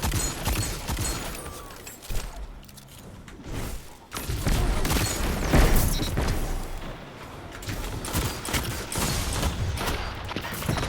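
Rapid gunfire and impact thuds fill a PvP match in the video game Wings of Sacred Dawn, a dense, loud stream of shots and booms running almost continuously with brief lulls.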